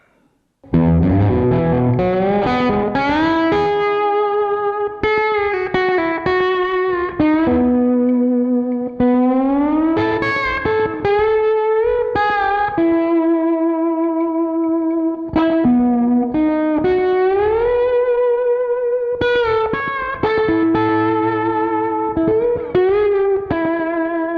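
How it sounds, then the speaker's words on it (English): Aria Pro II 714-GTR Fullerton electric guitar played with a slide on the bridge pickup, tone control rolled down, gliding between sustained notes in continuous phrases, loud and close, through a driven, reverb-tinged amp. "Next up, let's try some slide, and this is an opportunity to explore the tone control and see what effect it has on our sound."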